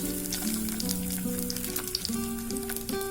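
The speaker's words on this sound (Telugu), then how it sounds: "ఇక్కడ ఎగ్స్ అన్ని ఈ విధంగా వేసుకొని ఫ్రై చేసుకున్నాము." Eggs frying in a pan with a spoonful of oil for a mushroom egg biryani, giving a continuous soft hiss and sizzle over quiet background music.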